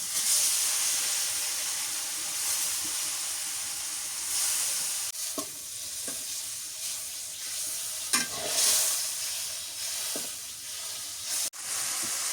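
Turmeric and spices frying in a pan for a village-style fish curry, a steady close sizzle and hiss with occasional scrapes and clinks of stirring, no voices.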